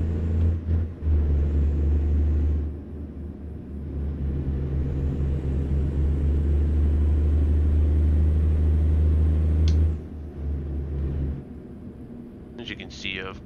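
A big rig in American Truck Simulator rumbles steadily with a deep engine drone, its pitch shifting as it accelerates, and an air brake hiss near the end; no one talks over it.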